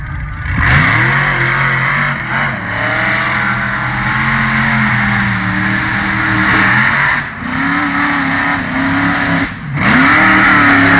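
Rear-steer off-road racing rig revving hard up a dirt hill climb, a loud, close engine roaring continuously for about eleven seconds with rising and falling pitch as the throttle works, briefly dipping between bursts.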